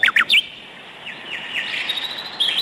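Three quick, bright bird chirps ring out close by, followed by a warbling trill and more chirps against a quiet background.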